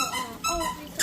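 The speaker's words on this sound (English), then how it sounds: "We have Maverick on the floor playing with a dog toy" A squeaky dog toy squeals in quick, pitched bursts on the floor in a kitchen, a close series of squeaks, with some background noise around them.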